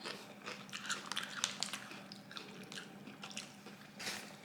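Crunchy potato chips, a plain salted black-and-white-packaged kind, being bitten and chewed up close, with a run of crisp crunches and rustles that fade into quieter chewing.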